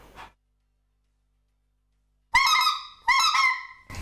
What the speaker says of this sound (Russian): Вот так примерно издает звук гуменник, гусь